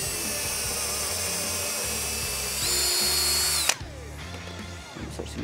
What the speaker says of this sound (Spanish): Voy a hacerle un agujero piloto.